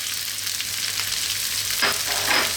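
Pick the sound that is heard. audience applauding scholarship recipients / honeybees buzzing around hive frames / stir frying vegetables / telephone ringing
stir frying vegetables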